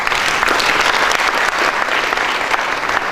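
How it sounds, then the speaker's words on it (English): A crowd at a student economics debate applauds loudly and continuously, many hands clapping in a dense, even wash that fills the hall for several seconds with no talk over it. "Another round of applause to..."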